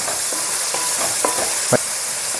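Onions and green chilies frying in a pan, a steady close sizzle with a few soft stirring scrapes and clinks, no talk.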